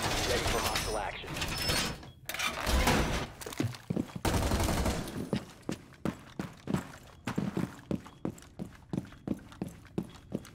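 Gunfire in a video game as a player shoots at fans, with loud bursts early, then a run of sharp, evenly spaced single shots, while someone talks over the noise.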